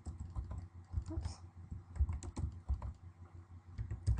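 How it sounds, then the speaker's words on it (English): Quick, uneven keystrokes clack on a computer keyboard nearby, a steady run of light taps and thumps with brief pauses. "we're going to continue typing phone"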